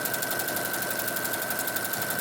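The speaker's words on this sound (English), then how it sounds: "So we're going to use our 1/4 inch foot and sew a line down this." A sewing machine with a quarter inch foot stitches fabric with interfacing for an autumn leaves table runner, giving a steady, close, rapid mechanical hum with no speech.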